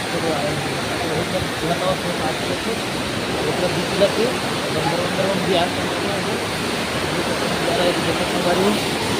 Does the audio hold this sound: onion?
no